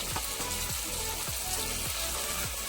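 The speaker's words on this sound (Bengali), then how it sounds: "এইবারে আমি দিচ্ছি কাজু বাদাম বাটা" Cashew paste goes into frying masala in a pan with a soft continuous sizzle, broken by repeated scraping stirs at a regular rhythm, close and fairly quiet with no voices.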